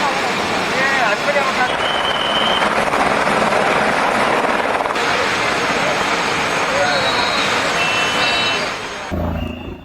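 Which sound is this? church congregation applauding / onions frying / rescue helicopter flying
rescue helicopter flying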